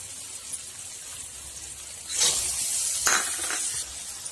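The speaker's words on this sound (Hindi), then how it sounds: "मटर को भी थोड़ी देर तक भून लेंगे" Peas tossed into oil-released masala for a paneer curry hiss and sizzle softly, with a brighter burst of frying and stirring in the second half and faint clinks of a spoon.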